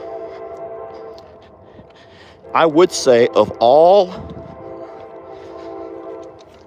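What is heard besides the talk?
train passing by a ranch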